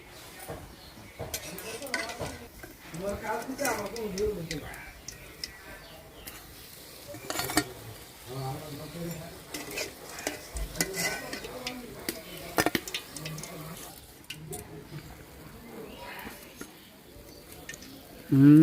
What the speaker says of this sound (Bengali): বাকি পাকোড়াগুলো এইভাবেই ভাজা নিব